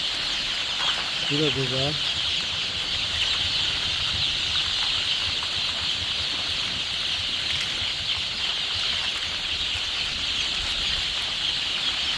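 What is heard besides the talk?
Adler and Loman Sandy chickens clucking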